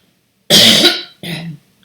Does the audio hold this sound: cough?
yes